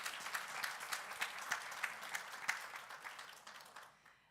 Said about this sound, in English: I would just like to invite another round of applause, please, for our final panelists